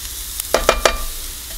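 Fish laab ingredients fry in a pan, with three quick scraping stirs over a low, steady sizzle, heard up close.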